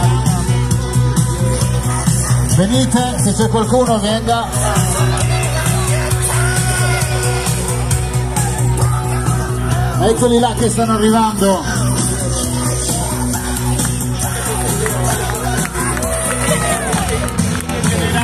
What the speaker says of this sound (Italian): Un applauso forte a Mediterraneo Reggio Calabria.